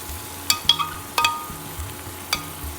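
Blended onion and tomato masala fried in ghee, stirred in a pan with scattered spoon scrapes and clinks over a low sizzle, near and moderately loud, with no voices.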